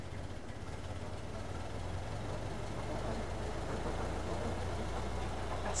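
A 1924 Ford Model T touring car engine running on magneto, a steady low rumbling idle with a faint rhythmic knock, heard alone at moderate distance.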